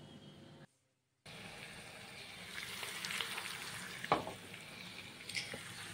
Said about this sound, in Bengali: পেঁয়াজ ভাজতে বসিয়ে দিয়েছি